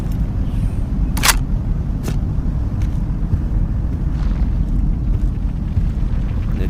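A Mosin Nagant rifle fires in the video game Into the Radius 2: one sharp, loud crack, then a weaker report about a second later, over a constant low ambient rumble with no talking.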